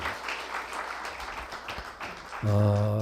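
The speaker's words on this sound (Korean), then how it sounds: "우리 그런 마음으로 하나님 앞에 박수 한번 올릴까요?" A church congregation gives dense, sustained applause that fills the room, then a held organ-like chord enters near the end over the last of the clapping.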